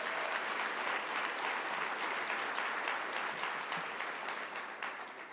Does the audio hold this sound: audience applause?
yes